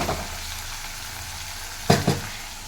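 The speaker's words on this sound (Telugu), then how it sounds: "ఆయిల్లో అయితే ఈ మెంతాకు బాగా వేగాలండి" Fenugreek leaves frying in oil produce an even, close sizzle, interrupted near the end by two quick knocks of stirring against the pan.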